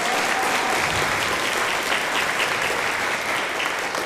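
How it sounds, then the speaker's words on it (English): An audience at a high school spring orchestra concert applauds for Heather Teagarden, a steady dense wash of clapping held at an even level throughout with no break. "So a round of applause for Heather."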